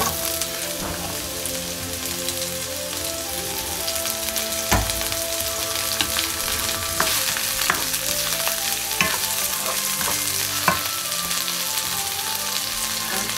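Chicken hearts and celery sizzle steadily in sesame oil, with a dense crackle running throughout and occasional sharp utensil clinks from stirring, close and fairly loud.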